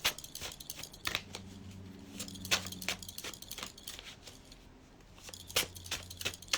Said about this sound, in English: They want to shuffle the cards really well.